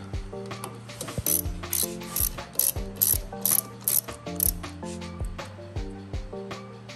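Small screws on restored Peugeot parts being driven home with a ratcheting tool, giving rapid repeated clicks in short bursts, close and fairly loud, with light metallic handling between turns.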